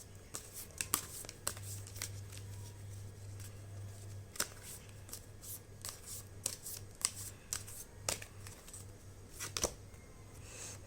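Tarot cards being shuffled and drawn, with quick riffling bursts and crisp slaps and flicks of card stock at an irregular pace, close and quiet over a low steady hum.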